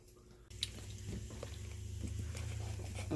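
Chopped onion sizzling in hot oil at the bottom of a soup pot for vegetable soup: a steady, moderately quiet frying hiss with small crackles, and no one speaking.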